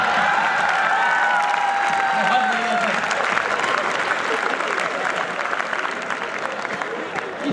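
An audience at a live Hindi comedy show breaks into loud, sustained clapping and cheering that fills the hall, holding strong before gradually thinning out.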